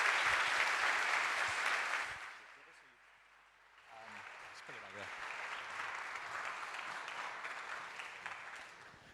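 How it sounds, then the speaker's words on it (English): An audience at a Q&A event with Monzo's Tom Blomfield and Eileen Burbidge bursts into loud, dense clapping. It fades after about two seconds, then swells back into a second sustained round, with brief talk in the lull. "Let's get one more big round of applause for Tom and Eileen, please."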